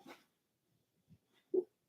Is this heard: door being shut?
no